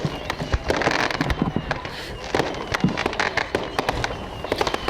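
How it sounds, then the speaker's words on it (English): Fireworks bursting during a high school football game, a rapid series of sharp cracks and booms layered over crowd noise and stadium ambience, with faint talk underneath. "Good fireworks display."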